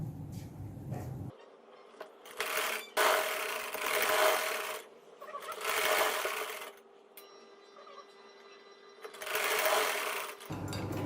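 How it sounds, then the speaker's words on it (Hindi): A sewing machine stitches lace onto a garment neckline in several bursts of rapid, whirring needle runs separated by short pauses, close and clear with no talking. "अब मैं बाहर वाली साइड पर इसको सिलाई लगाऊंगी।"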